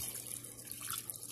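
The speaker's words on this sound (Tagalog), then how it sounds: "lagyan natin ng isang basong tubig" Water poured from a glass into a pan of chicken adobo, a steady close splashing pour running the whole moment with no talk.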